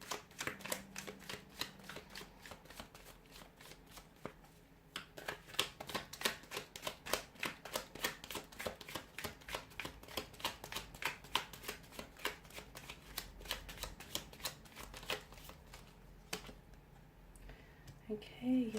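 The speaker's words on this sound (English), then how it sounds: "give the cards a shuffle here" Tarot cards being shuffled repeatedly, a steady riffling and flicking that continues throughout, fairly quiet and close with no talking.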